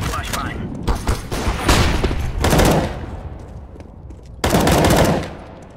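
Automatic weapon fire in the multiplayer shooter CS:GO, with several bursts of rapid shots spread across the moment, some long and sustained, others short, fairly loud with game ambience between.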